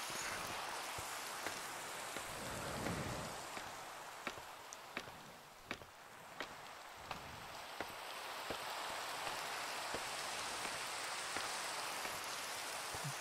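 Steady rain falls in the Minecraft video game, a broad even hiss with scattered sharp drop ticks and a few thuds, continuous and fairly close with no talk.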